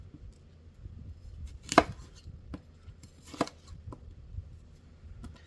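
Apples being cored and sliced for infused rum, a knife striking the cutting board in two sharp chops and a few lighter taps, close and isolated over a quiet kitchen background.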